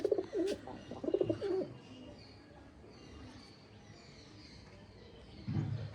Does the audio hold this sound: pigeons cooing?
yes